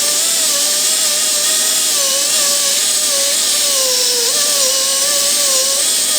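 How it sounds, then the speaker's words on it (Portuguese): Dental handpiece with a multiplier tip, its bur preparing a tooth for a metal-ceramic crown, gives a loud continuous high-pitched whine that dips slightly in pitch as it cuts, steady and close throughout. "Eu estou trabalhando com uma ponta multiplicadora para fazer o término e para fazer o acabamento"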